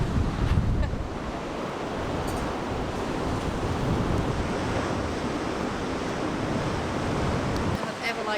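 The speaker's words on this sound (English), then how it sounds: "It is very windy" Strong wind buffets a walkway over a gorge, a steady loud roar of gusty rushing air with heavy low buffeting across the microphone and no clear break.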